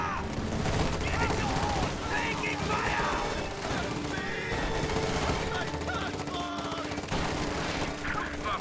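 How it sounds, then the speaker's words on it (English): Dense, rapid volleys of explosions from a Katyusha rocket barrage in Company of Heroes 2, crackling and booming in overlapping bursts with chaotic battle noise and a voice talking over it. "Katyusha also bombarding the area"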